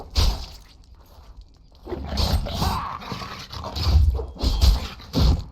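Dogs in the Dragon Age: Origins video game make a fast series of close, loud snarls, barks and growls in uneven bursts, mixed with scuffling sounds of a fight.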